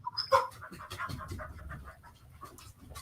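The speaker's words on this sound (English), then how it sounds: "I hear somebody's dog." A dog panting indoors in a room, quick rhythmic breaths close by, with a faint bird-like chirp near the start and no talk.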